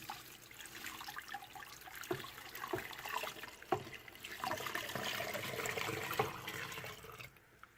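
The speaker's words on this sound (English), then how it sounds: "I'm going to add 8 cups of hot water." Hot water is poured into a Nesco smart pressure canner already loaded with jars, a quiet continuous trickle and splash with small knocks, close by and without talk.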